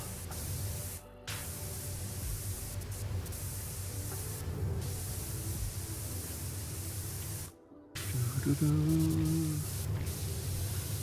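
Steady hissing spray of a pressure washer in PowerWash Simulator 2, running loud and continuous with two brief cutoffs, with a low hum underneath.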